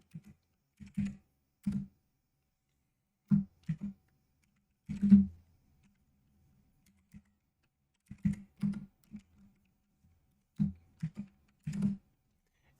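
Keystrokes on a computer keyboard while typing in the Neovim text editor, coming in short clustered bursts with brief pauses between them, close and fairly quiet, with no voices.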